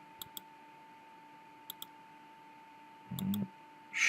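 Computer mouse clicks in a quiet room: a pair of sharp clicks, a second pair, and a third pair, evenly spaced over a faint steady hum, with a brief muffled bump near the end.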